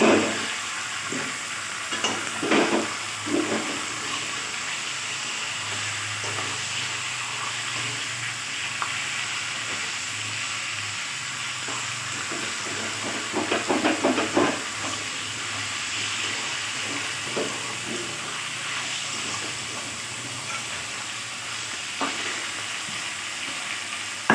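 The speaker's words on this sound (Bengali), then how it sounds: "মাছের মাথাটা ভাজা হয়ে গেছে" Catla fish head frying in oil gives a steady, loud sizzling hiss, with occasional scraping and stirring clatter near the start and middle.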